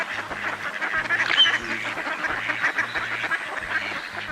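Ducks quack over and over in a quick, nasal chorus, close and fairly loud, with no voices.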